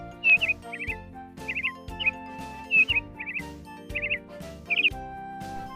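Peacock calling in short, sharp high-pitched bursts, about eight quick cries spaced evenly over a soft steady backing tone, fairly loud and close, with no talking.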